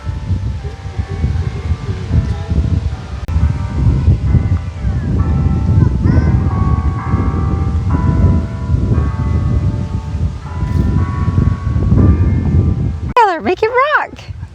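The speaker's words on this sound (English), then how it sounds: "Church bells." Church bells ring out near the end, bright clanging tones after a long stretch of wind rustle and murmuring voices.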